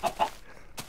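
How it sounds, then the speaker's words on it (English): Chickens in the video game Minecraft give two quick clucks close together, then one more cluck after a short pause, all clear with no talking. "kill these chickens and get me some food"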